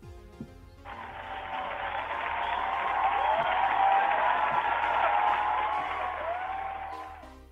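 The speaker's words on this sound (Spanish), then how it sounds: "Vamos a dar un aplauso" Applause on a comedy podcast starts abruptly, swells to a dense, steady roar of clapping, then tapers slightly before cutting off, sounding like a canned crowd effect.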